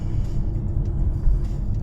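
Steady low rumble of a Toyota HR Hybrid 1.8 car driving on a Bangkok street, heard from inside, a continuous even road and engine drone with no talking.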